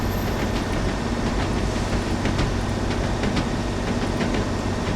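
A Class 101 diesel multiple unit runs on the Tees Valley Line in Train Sim World, giving a loud, steady rolling rumble with faint rhythmic clicks from the rails.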